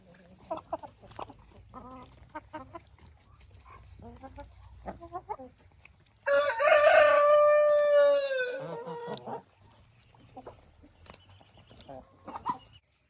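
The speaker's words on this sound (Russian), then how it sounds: "Переспевший арбуз с удовольствием кушают куры." Hens cluck and peck in a farmyard while eating overripe watermelon. Scattered close clucks lead into one loud rooster crow lasting several seconds, and then the quieter clucking resumes.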